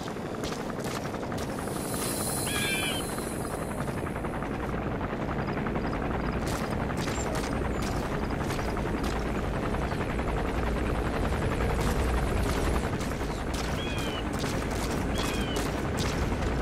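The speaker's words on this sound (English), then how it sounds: "The chopper will be arriving any minute." Military helicopter arriving for extraction in the Metal Gear Solid V video game, with a steady rotor drone under a dense wash of noise and scattered sharp cracks like distant gunfire throughout.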